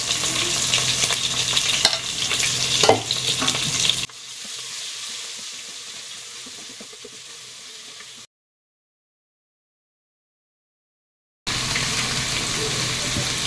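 Ginger garlic paste sautéing in hot oil, a loud crackling sizzle with stirring scrapes at first, then a quieter hiss, a few seconds of silence, and the loud sizzle returning; no voices.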